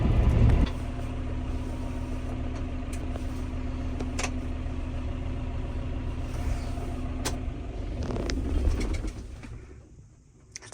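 Tractor engine running steadily at close range, a continuous low drone with a strong harmonic hum that holds for most of the stretch, then eases off and fades near the end.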